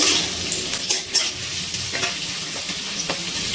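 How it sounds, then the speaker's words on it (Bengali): Capsicum stir-fried with carrots and beans in a hot pan, a loud continuous sizzle with repeated scraping and tossing strokes from a spatula, close up and without talk. "এবার দিয়ে দিচ্ছি ক্যাপসিকাম, নাড়াচাড়া করে নিচ্ছি।"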